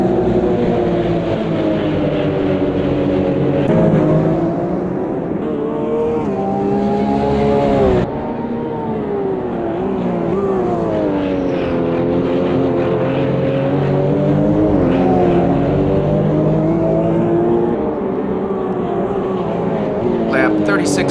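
Porsche Cup race cars at the Long Beach Grand Prix street race, engines roaring and revving in steady sweeping pitch changes through gear shifts, loud and continuous from onboard for the whole stretch.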